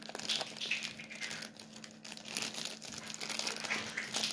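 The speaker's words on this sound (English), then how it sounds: "I open the scotch tape and what I see inside" Scotch tape peeled open on the packaging of Bose Alto sunglasses, a close continuous crinkling and tearing rustle with no talk.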